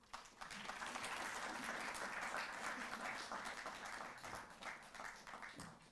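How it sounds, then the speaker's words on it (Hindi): Steady applause from an audience at a felicitation ceremony for Asian Games 2022 medal winners, a dense wash of many hands clapping that holds evenly throughout, with no speech over it. "एक बार फिर अनुरोध खेल में जोश से भरी तालियों का"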